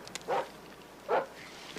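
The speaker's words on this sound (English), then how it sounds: "Leave it to you to put me next door to a mangy-mouthed mutt." A dog next door barks twice, muffled and somewhat distant, the two short woofs spaced under a second apart with quiet between them.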